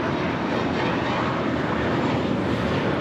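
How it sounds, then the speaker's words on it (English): An American Airlines Airbus A321 on its takeoff roll at Los Angeles International, bound for Puerto Vallarta, gives a steady, broad engine roar that holds even and unbroken for the whole stretch, with no voices over it. "764 taking off to Puerto Vallarta on the A321."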